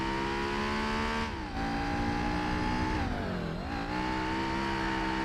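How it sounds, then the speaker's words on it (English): Honda Civic engine in Gran Turismo 4, a steady high-pitched buzzing whine held at high revs, briefly dipping twice as the revs drop and rise again, constant and fairly loud. "the Civic sounds like a bee stuck inside the engine"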